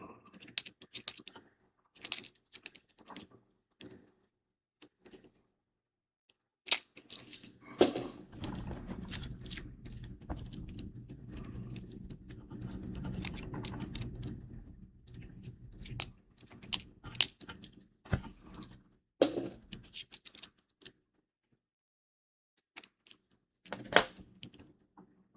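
Computer keyboard typing during a live coin-hunting stream, coming in close, quick bursts of clicks separated by pauses, with one longer stretch of steady keystrokes in the middle.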